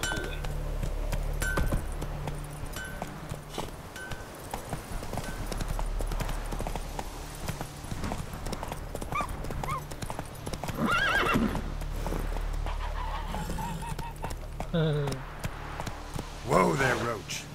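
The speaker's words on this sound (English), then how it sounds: "Whoa there, Roach" Hooves of a horse clip-clop at a trot in the Witcher 3 video game, steady and close, with a whinny near the end; a voice talks over parts of it.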